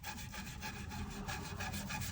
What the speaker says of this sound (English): Rub it down again. Gets all that dust out of there.